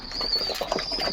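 A brief whir of pigeon wings flapping as the birds arrive for feed, with a high steady hiss behind it, fairly quiet.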